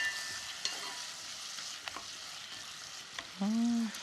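Radish and abalone stir-fry in a pot, giving a constant soft sizzle with occasional scraping stirs, close and fairly quiet, and a brief tonal clink near the end.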